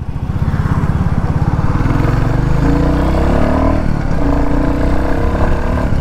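A Royal Enfield Classic 350 motorcycle rides along and swings through a U-turn, its single-cylinder thump loud and close, pulsing unevenly as the throttle eases off and picks up again, with no talk.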